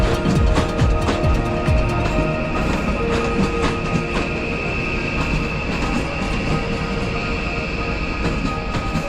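Train rumbling through Zagreb Central Station in Croatia, a steady close mechanical drone with faint clicking of wheels, continuous for several seconds with no talk.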